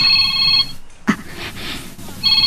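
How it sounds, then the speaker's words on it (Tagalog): A cellphone rings in an Ilocano drama scene, a bright electronic ringtone sounding in two bursts with a short quiet gap between them, close and clear, with a faint knock or shuffle in the pause. "Ni Manong Regit yung mauawag iti cellphone ko"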